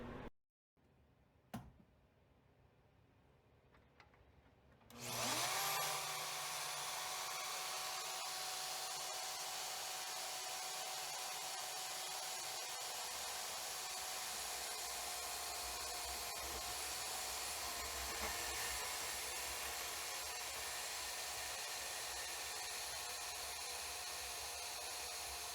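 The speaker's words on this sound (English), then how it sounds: "why do you need another bandsaw? Well, this was why, guys." A bandsaw cuts through a Honda ATC90 motorcycle part, starting after a few quiet clicks and then running as a loud, continuous buzzing rasp that holds steady to the end.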